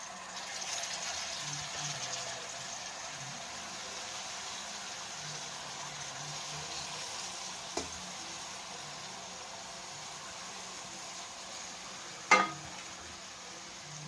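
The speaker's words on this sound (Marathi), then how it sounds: "त्याच्यामध्ये चिरलेली जी मेथी आहे ना ती टाकूया।" Chopped fenugreek leaves frying in a pan with garam masala and turmeric give a soft, steady sizzle throughout, with two brief utensil clinks near the middle and end.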